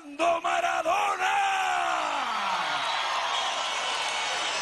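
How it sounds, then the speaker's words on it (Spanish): A political rally crowd erupts in a loud ovation, roaring cheers and yells swelling at once and then holding as a broad, sustained wall of crowd noise. "Una ovación de amor y cariño para Diego Armando Maradona."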